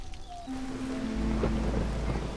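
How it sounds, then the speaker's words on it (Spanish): Thunderstorm in the roguelike city-builder video game Against the Storm, a low thunder rumble swelling under steady rain, with a faint tonal game sound at the start and no talk. "La devastadora tormenta aflige el ánimo."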